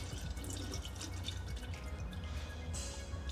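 Gear oil draining out of the reducer of an electric car during servicing, a continuous thin liquid trickle and dripping heard close up over a low steady background hum, with no speech.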